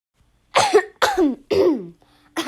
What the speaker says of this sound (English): Why have I been coughing so much?